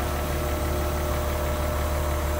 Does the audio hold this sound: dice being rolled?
no